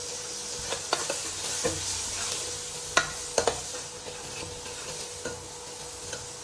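Pumpkin pieces roasting in a hot pan for a milk-based pumpkin curry, a soft continuous sizzle with intermittent scraping and knocking stirs, close and moderately loud.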